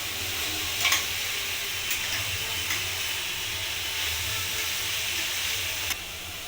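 Grated carrot for carrot halwa, salted, is stirred in a pan over a high gas flame, giving a steady close sizzle and hiss with occasional light scrapes of the spoon.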